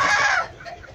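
Chickens cluck close by, a burst of clucking in the first half, then quieter fowl sounds trailing off.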